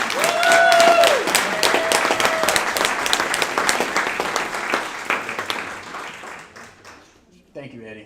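An audience claps for graduates at a graduation ceremony, loud sustained applause with a few whistles near the start, gradually thinning and fading, then a voice speaks at the end.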